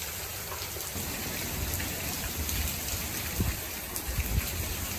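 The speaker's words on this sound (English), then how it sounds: "starting to pick up a little bit, raining." Steady rain falling as Hurricane Milton approaches, a constant soft hiss with a few louder drops and low rumbles near the end, no voices.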